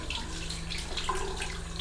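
Tap water at room temperature runs steadily into a sink while black and white film is being developed, a continuous close hiss of flowing water with no pauses and no talk.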